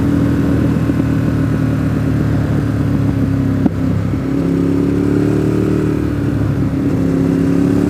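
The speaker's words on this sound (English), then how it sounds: "Feels like there's actually some bikes out here today." Several motorcycles ride past on the mountain road at Deals Gap, a steady mid-pitched engine drone with rising revs and a brief clatter midway, continuous and fairly loud with no talking.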